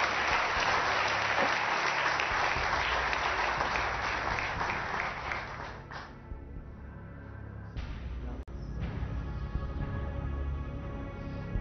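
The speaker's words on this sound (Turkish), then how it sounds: "Evet bu alkışı dörtte çarpmamız lazım arkadaşlar." Studio audience on the Turkish quiz show Who Wants to Be a Millionaire bursts into loud, dense applause that holds for several seconds, then fades into quieter studio background sound.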